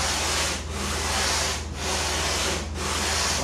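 Broad rasping strokes of a sanding board on a homemade foam and fabric kayak, back and forth, with brief pauses between passes, close and loud.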